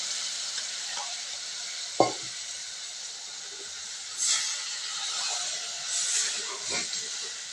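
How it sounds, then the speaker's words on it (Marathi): A pan of water comes to a boil over a besan thapi vadi tempering, giving a steady bubbling sizzle and hiss close by, with a sharp clink near two seconds and brief surges of steam later on. "तुम्ही बघू शकता चांगली फोडणीला आपल्या उकळी आलेली आहे."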